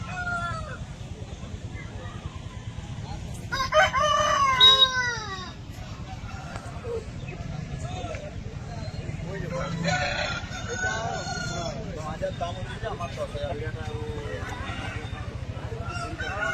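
Aseel and country chickens cluck and squawk nearby with a loud rooster call in the middle, over a low background hum and some talking.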